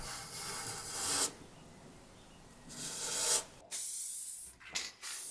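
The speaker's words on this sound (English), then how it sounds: "I sprayed the table with several coats of clear satin lacquer" Clear satin lacquer sprayed onto an Art Deco table, heard as steady close hissing bursts, two long passes followed by shorter spurts and brief pauses.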